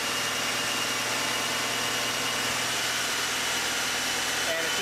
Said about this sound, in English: Now it is just engaged, and it's actually sucking the pressure down.